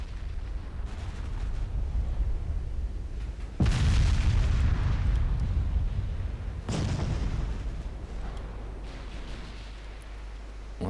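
Heavy 14-inch naval guns firing in Ultimate Admiral Dreadnoughts, two deep booming salvos a few seconds apart, each a loud blast that rumbles and fades over steady low sea and engine noise.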